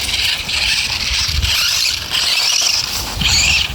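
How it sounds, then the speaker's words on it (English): A LiteHawk Boost RC car's loud stock electric motor whines in high-pitched bursts that rise and fall, close and intense, with brief gaps between runs. "It's a loud motor."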